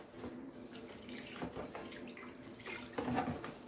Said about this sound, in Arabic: شايفين انا بلف الرقاقه وبقعد ايه اصب عليها الشوربه